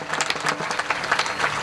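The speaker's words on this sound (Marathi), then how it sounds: "त्या सगळ्या यजमान करणाऱ्यासाठी एकदा सर्वांनी टाळी वाजवा" Brief burst of clapping from the gathered audience at a Marathi kirtan week, honoring the hosts, a quick dense round of hand claps lasting under two seconds.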